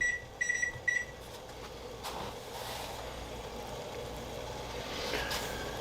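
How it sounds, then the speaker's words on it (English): A kitchen timer beeps in quick bursts near the start, three short clusters of high electronic tones, then falls silent against steady low room hum while noodles are being made for lasagna. "Oh yeah, timer."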